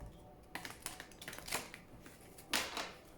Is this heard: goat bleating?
no